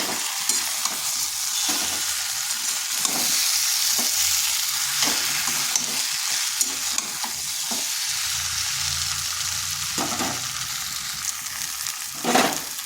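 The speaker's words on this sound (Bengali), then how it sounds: "এরপর দিয়ে দিচ্ছি ফুলকপিগুলো। এগুলো দিয়েও আরেকটু কষে নেব যাতে মশলাটা ফুলকপির গায়ে ঢুকে যায়" Cauliflower sizzles loudly in a spiced pan with eggs, while a utensil scrapes and stirs in repeated strokes. The frying hiss runs continuously and close, with no talking.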